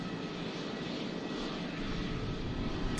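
An easyJet Airbus A320neo landing at Manchester Airport in strong winds gives a steady, broad engine roar at close range that holds level for the whole stretch, with no voices over it.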